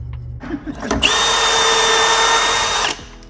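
A power drill whirs steadily for about two seconds, driving screws into boards through a Kreg pocket-hole jig, loud and close with a short spin-up and stop and no talking.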